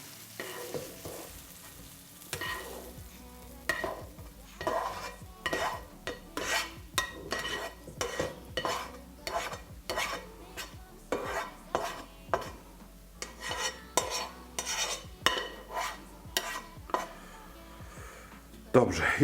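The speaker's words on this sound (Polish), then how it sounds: "musimy przełożyć je do garnka z podsmażonymi wcześniej warzywami" Repeated scraping and clinking of a utensil against a pan as fried food for spaghetti bolognese is moved into a pot of vegetables, with soft sizzling underneath, steady and close.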